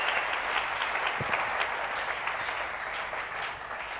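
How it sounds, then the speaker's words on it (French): Steady applause from a church congregation clapping hands together to praise God during a pastor's sermon on marriage, a dense continuous crowd of claps filling the whole stretch at even strength. "si tu mets tes mains ensemble pour acclamer Dieu"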